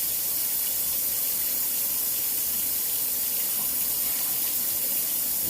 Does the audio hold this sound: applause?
no